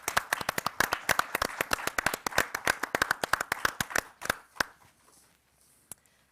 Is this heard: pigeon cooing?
no